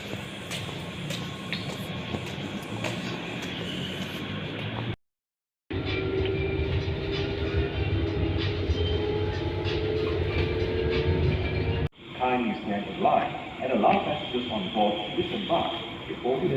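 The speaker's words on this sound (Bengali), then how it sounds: "আমরা এখন এই ট্রেনটাতে উঠবো ট্রেনটা এখানে দাঁড়াইবো এটা সরাসরি এয়ারপোর্টের ভিতরে চলে যায়" Airport train in Malaysia running on its line, with a steady rumble and clatter of the rail cars throughout, a brief cut in the middle, then rising noise and people talking near the end.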